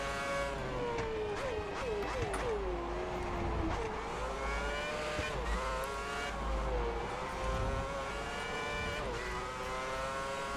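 F1 car engines in the F1 2010 racing game at the Australia round scream steadily, with the pitch rising and falling through gear shifts over a continuous background roar from the other cars.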